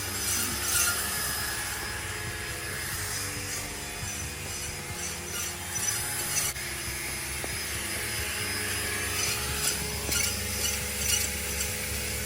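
A cylinder bore in a Jeep CJ5 V8 engine block is honed during a rebuild, giving a continuous loud grinding, rasping whir with a high metallic whine that holds steady the whole time, with no talking.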